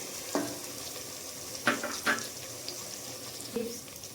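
Tomato, green chilli and raw mango pieces frying in a pot for a mango pulao, giving a soft continuous sizzle broken by a few brief stirring clinks and scrapes.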